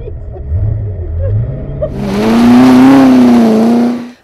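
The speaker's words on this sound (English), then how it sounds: "Give it a few revs and away we go." A car engine idles low, then revs up into a loud, rising roar as the car pulls away, holding strong before cutting off abruptly.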